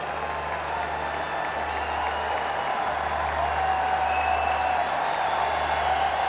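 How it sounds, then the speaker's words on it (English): A cricket crowd at a Pakistan vs West Indies one-day international cheers and applauds a half century, a broad, steady roar of clapping and voices that carries on without a break. "The local boy gets a huge cheer from the crowd."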